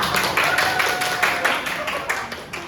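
Applause in a small classroom for a teacher during a micro-teaching practice lesson, a short scattered burst of hand clapping with uneven rhythm, fairly close and moderately loud, with some voices mixed in.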